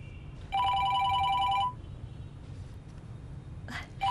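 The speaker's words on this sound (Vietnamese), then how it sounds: "Điện thoại của anh ạ." A telephone rings in a home setting, one sustained electronic trilling burst lasting about a second, then a faint room pause before a second ring begins at the end.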